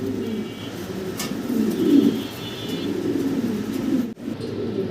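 A pair of blue-bar German Beauty Homer pigeons coos in low, rolling, continuous murmurs at close range, with a faint higher tone partway through and a brief dip near the end.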